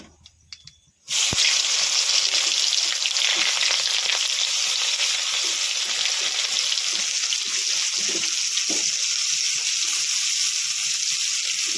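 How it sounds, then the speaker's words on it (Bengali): Onion and nigella seeds hit hot oil in a pan, bursting into a loud, close, continuous sizzle after a brief quiet start and frying steadily with no talk. "এই কড়ায় কালো জিরে দিয়ে দেবো পেঁয়াজটা দিয়ে দেবো"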